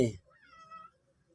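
A cat gives a single short, fairly quiet meow, right after a brief burst of another sound.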